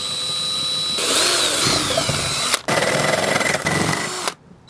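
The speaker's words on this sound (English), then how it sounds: "we'll drill a hole saw from the inside a 1/2 inch higher" A power drill driving a hole saw through a house wall from the inside for a frost-free hose bib hydrant, a loud whirring grind that pauses briefly, restarts and runs on before stopping.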